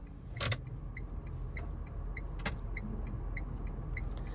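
A car engine idles steadily in gear on a steep hill climb, a low continuous rumble with a faint regular ticking and a couple of brief clunks, no talk over it.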